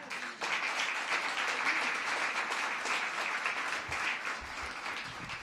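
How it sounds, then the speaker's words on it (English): Steady, dense applause from an audience at a mayoral unveiling of a downtown day services center, sustained clapping from a crowd for several seconds before thinning slightly near the end. "Want us to give them another round of applause?"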